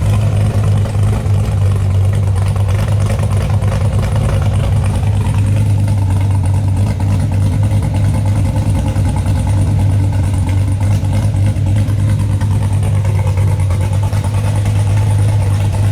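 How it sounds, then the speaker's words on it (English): A sixth-generation Camaro ZL1 V8 engine with an aftermarket cam and American Racing exhaust idles up close with a deep, lumpy, slightly choppy rumble that holds steady throughout, with no voices. "I think it sounds really good with that American Racing exhaust."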